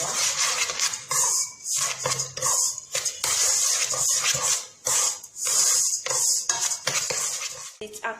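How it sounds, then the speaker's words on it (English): A spoon scrapes and clinks steadily against a bowl while brown and white sugar are stirred together for a homemade organic body scrub, a continuous gritty mixing sound in close quarters. "Then I'll add my brown sugar. And mix them very well."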